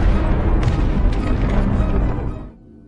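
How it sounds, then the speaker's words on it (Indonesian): A large explosion from the 2023 film Black Knight: a loud, dense roaring boom with rumbling debris that holds for about two and a half seconds, then suddenly drops to a faint low background. "Tak berselang lama sebuah ledakan besar terjadi."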